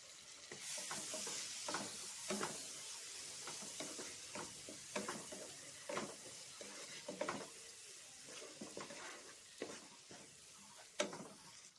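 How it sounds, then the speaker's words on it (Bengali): Chopped tomatoes are stirred in a frying pan, a quiet, steady sizzle broken by repeated scraping and clacking strokes of a spoon against the pan, close and without voices. "এবারে আমি দিয়ে দেব টমেটো কুচি"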